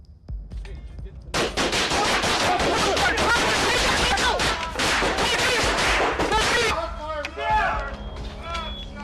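Heavy rapid gunfire as a 30-round magazine is emptied in an ambush on deputies, a dense, loud burst of shots running several seconds with shouting voices over it.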